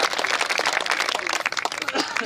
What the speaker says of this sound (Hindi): जोरदार ताली एक बार बजाइए